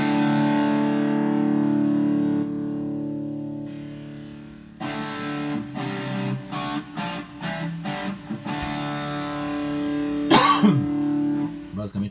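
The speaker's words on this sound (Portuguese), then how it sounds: "Basicamente, para mim, isso aqui é como inserir chiado no som" An Alesis Guitar FX pedal's Beat Produce effect adding hiss to a guitar signal: a sustained tone gives way to choppy, noisy bursts with a gritty wash, and a voice talks over part of it.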